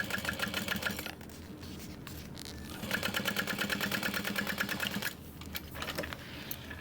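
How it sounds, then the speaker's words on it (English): A sewing machine runs close, stitching a backpack seam in a steady mechanical whir with a rapid needle rhythm, dipping briefly around a pause and resuming. "I'm probably gonna sew over this twice if I can."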